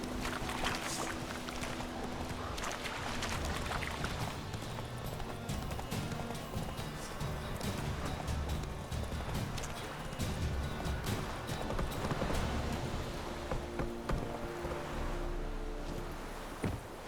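Roach the horse gallops through The Witcher game world, a steady rapid clip-clop of hooves running continuously under layered game music and ambience, fairly close and loud throughout.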